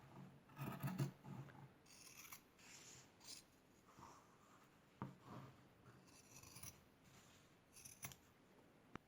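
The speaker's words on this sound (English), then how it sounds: "I'm going to take my scissors, and I'm just going to cut along the arc" Scissors cutting fabric along an arc for a tree skirt circle, a series of close, soft snipping and rasping strokes in irregular bursts, fairly quiet with no talk.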